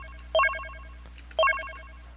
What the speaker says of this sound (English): that is pretty much how you make the coin sound effect